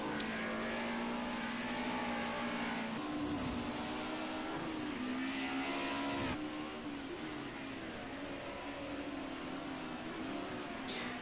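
A Mercedes 190E Group A touring race car laps the Oschersleben circuit, its engine a loud, continuous high-revving drone with small pitch dips at gear changes and a brief lift near the middle, heard alone without talk.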